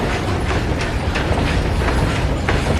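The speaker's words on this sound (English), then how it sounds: "There's a train passing." A train rolls past close by on the way to Dudhsagar Waterfall in Goa, loud and steady, with rhythmic wheel clatter over the rails throughout and no voices.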